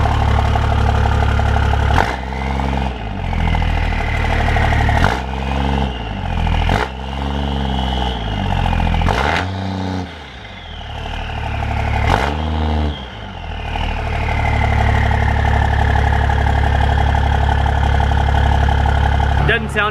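A fourth-generation Cummins diesel truck engine with a 4-inch exhaust cranks and fires several times, then settles into a loud, steady rumbling idle with clattering.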